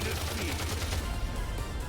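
In the video game Live A Live, a Gatling Barrage machine-gun attack fires as a dense, continuous rattling barrage, loud and unbroken for the whole moment.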